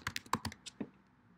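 Several quick keystrokes on a computer keyboard tap out a short burst of typing, close and fairly quiet, then fade into near silence.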